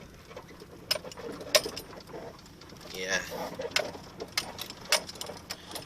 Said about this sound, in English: And now we'll hear all this squeaking that this car does.